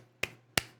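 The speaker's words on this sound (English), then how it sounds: "you can hear my clapping right now." Two sharp, separate hand claps ring out in a room about a third of a second apart, each crisp and close with a brief decaying tail.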